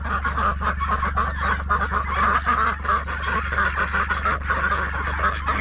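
Ducks and geese honking and quacking in a dense, continuous chorus over a low steady hum, the calls overlapping closely with no talking.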